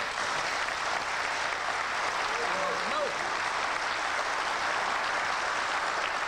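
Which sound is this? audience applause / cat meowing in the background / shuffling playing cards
audience applause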